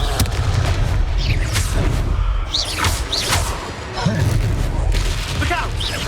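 Confringo fire spell explosions in Hogwarts Legacy gameplay, a dense loud booming battle din with repeated blasts and whooshing bursts, sustained throughout alongside game voices.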